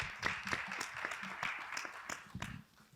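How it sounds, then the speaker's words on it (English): A short burst of scattered clapping from a small audience at a panel discussion, moderately distant, tapering off near the end. "So just give a round of applause again for our panelists."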